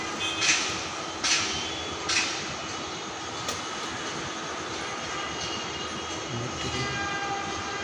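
A metro rail train passes on an elevated line in Dhaka under a cloudy sky with light rain, making a steady broadband rumble with a few sharp rattles near the start. No one speaks.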